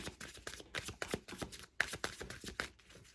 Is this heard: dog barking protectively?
no